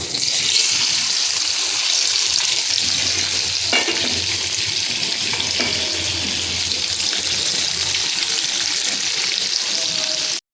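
Paneer and potato frying in a little oil in a kadai, a steady dense sizzle running the full length, with a few scraping stirs and clinks partway through; no talking.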